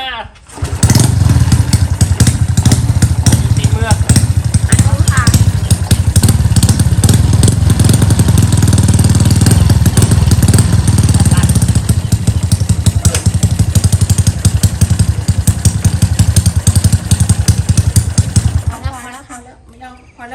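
A Honda Wave 110i motorcycle engine starts and runs loud and close, its buzzing drone steady for most of the stretch before cutting off near the end, with someone talking over it.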